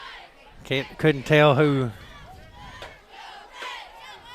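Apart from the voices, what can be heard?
football crowd shouting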